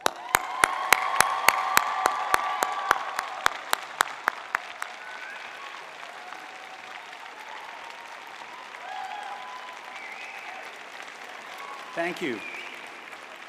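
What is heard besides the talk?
big round of applause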